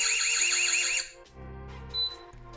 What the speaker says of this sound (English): the ability to have the camera emit a noise when motion is detected. This can vary from a siren